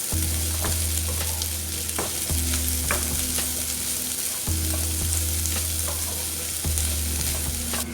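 Onion and capsicum sauté in a pan for a shawarma sandwich filling: a constant loud sizzle with repeated scraping strokes of a spatula and a low hum underneath, with no voices.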